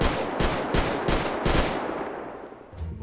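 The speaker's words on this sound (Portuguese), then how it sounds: "olha o tiro" Army rifle firing in GTA 5 role-play, a quick burst of about five loud sharp shots in even rhythm, then a fading echoing tail and quiet.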